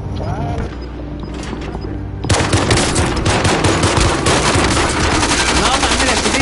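Rapid automatic gunfire in a video game, a dense continuous stream of shots that starts abruptly and keeps going loud to the end, with players talking over it.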